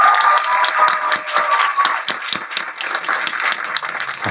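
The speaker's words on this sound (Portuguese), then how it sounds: "uma salva de palmas para o teatro brasileiro" Theatre audience applauding, a dense and sustained burst of many hands clapping that stays loud and even from start to finish.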